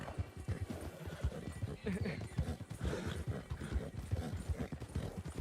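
Horse hooves gallop in a fast, steady clip-clop rhythm in the video game Red Dead Redemption 2, close and continuous, with an occasional whinny and a voice talking over them.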